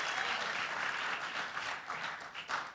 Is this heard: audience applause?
yes